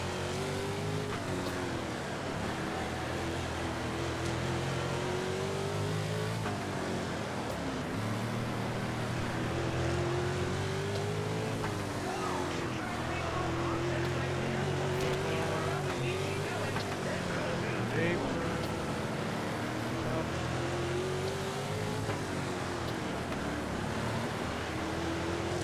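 A dirt-track race car engine in World of Outlaws 24, racing a 25-lap A-main feature. A steady, droning engine roar runs throughout, its pitch rising and falling gently as the car works through the turns.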